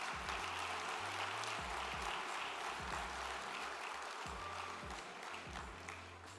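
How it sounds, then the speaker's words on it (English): Sustained applause from a banquet audience at a national fraternity convention awards dinner, a steady dense wash of clapping from many hands throughout, with low rumbling room noise underneath. "Please give them another round of applause."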